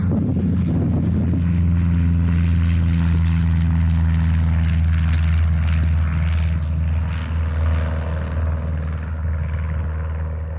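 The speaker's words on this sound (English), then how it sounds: "Oh, and here goes an airplane." A propeller airplane passing on an airport tarmac in Morristown, Tennessee: loud, close droning engine and prop hum with a steady low buzz, holding strong throughout and easing slightly toward the end.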